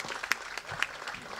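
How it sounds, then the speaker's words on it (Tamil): An audience at a film event gives brief, faint applause, with a handful of scattered claps and no sustained roar. "வாங்க நல்ல பலத்த கரகோஷம் கொடுங்க"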